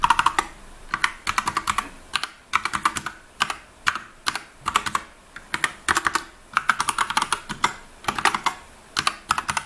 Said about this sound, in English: Here I will type the IP address of my Windows machine.